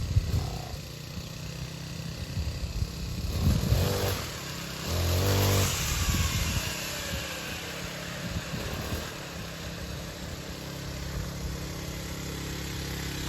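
A petrol brush cutter engine starts and runs to warm up, a close buzzing two-stroke drone with a few brief revs in the middle before settling to a steady idle.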